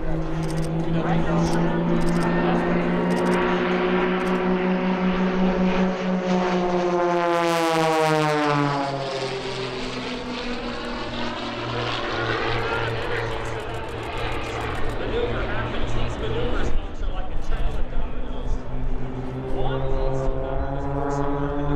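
Aircraft perform at the EAA AirVenture Oshkosh air show, their engines droning loudly with a sweeping pitch shift as one passes close overhead, then receding and returning, while a commentator talks throughout.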